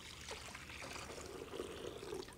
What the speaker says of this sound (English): now would be the time to pour the water into the bowl